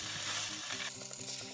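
Salmon fillets lay into a hot pan and burst into a steady, crackling sizzle that stays bright and close throughout the short stretch.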